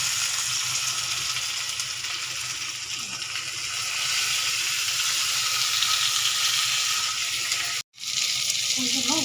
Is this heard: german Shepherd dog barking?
no